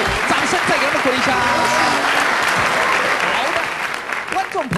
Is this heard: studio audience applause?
yes